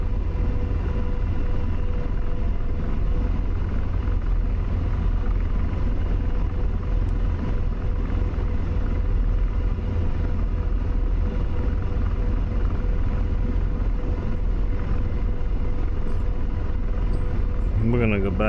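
An AH-64 Apache helicopter taxiing on the ground in the DCS flight simulator, with a steady, loud low rotor and engine rumble droning throughout and a faint high whine on top.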